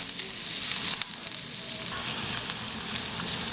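Onions and garlic sautéing in a pan for fish sinigang, frying with a constant close sizzle and occasional light stirring taps, with no speech.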